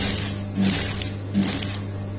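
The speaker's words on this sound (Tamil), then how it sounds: "நீங்க தைக்கும் போது பொறுமையா மெல்லமா தைச்சு பழகுங்க" A sewing machine stitches a round neckline with a fast, close mechanical whir that rises in two brief louder surges over a steady motor hum, with no speech.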